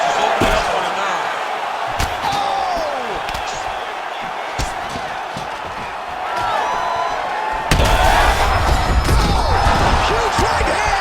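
Heavy punches thud and slam repeatedly in a UFC 5 video game fight between Movsar Evloev and Jean Silva, sharp impacts over crowd noise and commentator talk, with a louder burst of blows near the end.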